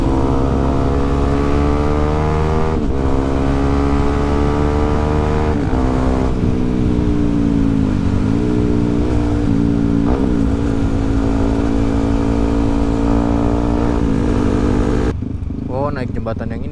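Motorcycle fitted with a Kyle XBF exhaust drones on a night ride, a loud continuous engine note rising and falling with throttle before cutting off near the end.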